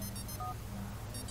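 A mobile phone ringtone from the video game GTA IV, a short electronic tone melody with repeated high bright notes, brief pauses between them, over a steady low in-game background hum.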